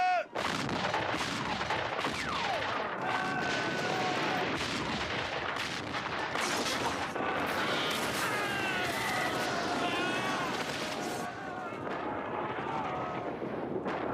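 Artillery fire in a desert battle: heavy booming blasts and bursts of gunfire roll on continuously with aircraft drone and shouting voices mixed in, loud and chaotic throughout.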